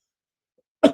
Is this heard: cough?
yes